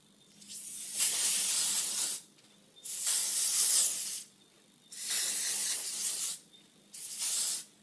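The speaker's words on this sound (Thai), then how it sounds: "เดี๋ยวเราก็ฉีดสเปรย์นิดนึงเนาะ" Hair spray is misted over freshly curled hair in four separate hissing bursts, each lasting about one to one and a half seconds with short pauses between them. The sprays are close and fairly loud, and no voice is heard.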